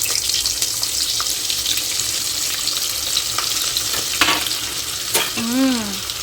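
Amul butter and ghee sizzle steadily in a hot pot while cooking biryani, a continuous close frying hiss with occasional stirring clatter and a brief squeaky scrape near the end.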